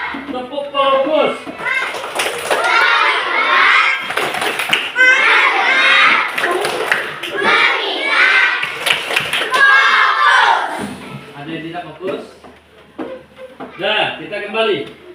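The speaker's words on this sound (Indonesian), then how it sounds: "Tepuk fokus." Schoolchildren in a classroom do a rhythmic 'focus clap', chanting loudly together between bursts of clapping, with a teacher's voice leading.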